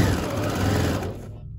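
A sewing machine stitches the seam of a pillow made from a tea towel, a steady close motor whir with rapid needle chatter that stops abruptly near the end.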